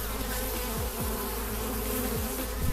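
Honeybees buzzing inside a crowded hive box during an inspection, a dense steady drone with individual bees sweeping past close by, fairly soft and with no talk.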